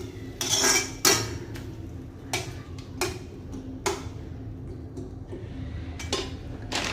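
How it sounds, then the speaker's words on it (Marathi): Soya chunks stir-fried in a pan over high heat, with sharp spatula scrapes and metallic clinks against the pan at irregular intervals over a low steady sizzle-like hiss; close, no speech. "मोठ्या गॅसवरतीच हे छान परतायचं आहे."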